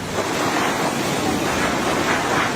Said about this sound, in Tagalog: pagewang-gewang ang mga puno dahil sa lakas ng hangin at ulan na dulot ng Bagyong Pepito